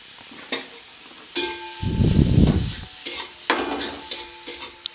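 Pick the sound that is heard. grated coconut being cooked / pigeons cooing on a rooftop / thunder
grated coconut being cooked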